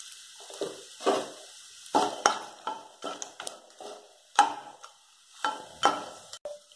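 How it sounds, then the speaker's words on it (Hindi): Cumin, bay leaf and cinnamon are added to hot oil for a jackfruit curry, giving a series of short sizzling bursts and stirring scrapes at irregular intervals, close and moderately loud. "ऑयल गरम हो चुका है, अब हम इसमें जीरा डालेंगे, तेज पत्ता,"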